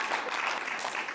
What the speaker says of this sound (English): come on, y'all clap for yourself